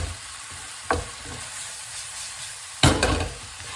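Prawns and onions stir-fry in a hot wok, a steady soft sizzle broken by two louder bursts of hissing as the food is tossed, with no talk.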